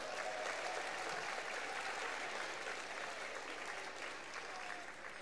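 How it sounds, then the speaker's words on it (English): A concert audience applauds Mr. Canella at a school winter concert, a continuous wash of clapping heard from a distance at low level, holding steady before easing slightly at the end. "So let's give him a round of applause for that."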